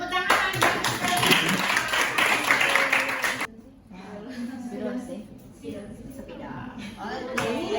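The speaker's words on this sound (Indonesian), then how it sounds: "tepuk tangan" An audience clapping together in a room, loud rapid claps for about three seconds that stop abruptly, followed by people talking and murmuring.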